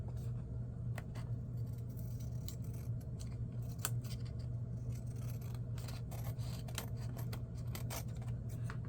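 Scissors snip repeatedly in quick, irregular cuts, close and fairly soft over a low steady background hum.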